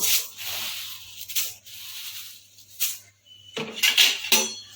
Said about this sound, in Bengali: এবার চিড়ে থালাটা নিয়ে নিচ্ছি অনেকটা চিড়ে তো এর মধ্যে চিড়ে অ্যাড করব